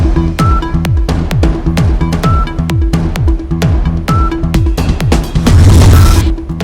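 Cannon fire from a 21-gun salute for Pakistan Independence Day, a series of loud, evenly spaced booms with a rolling echo after each shot and a bigger swell near the end.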